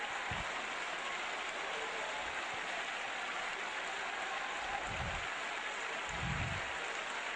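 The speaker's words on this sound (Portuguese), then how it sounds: "Aplauda Ele" A church congregation applauds together in a steady, dense wash of clapping that holds without a break, with a few low thumps underneath and no voices.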